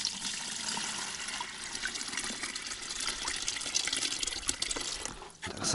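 Water splashing and trickling steadily, close by, as it is poured over live bait fish at a taiga lake, with small drips and a soft gurgle near the end.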